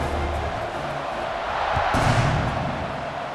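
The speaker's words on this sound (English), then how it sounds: "They're set to kick it off, and this crowd now ready to get behind them." Stadium crowd at a #6 Colorado Buffaloes versus #23 Texas Tech college football kickoff, a steady roar of massed voices that swells louder and fuller toward the end.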